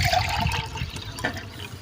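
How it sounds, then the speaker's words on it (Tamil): Water poured onto rice in a pot, a soft continuous splash and trickle of liquid filling, fairly quiet and close with no talking. "நம்ம தண்ணி ஊற்றிக்கலாம்."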